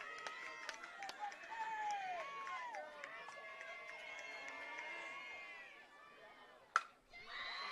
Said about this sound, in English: Now the Tri-Valley crowd making a lot of noise.